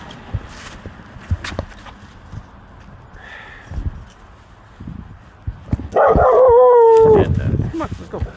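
A dog barks and whines a few times on a sunny outdoor walk, with footsteps and scattered handling noises around it; a louder burst of barking and yelping comes near the end, close by, with no talking.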